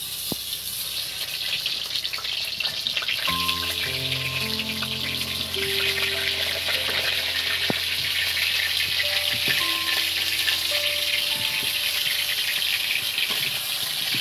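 Large-cut potato pieces are dropped into hot mustard oil and fry with a loud, continuous sizzle, while some faint tonal sounds drift in the background.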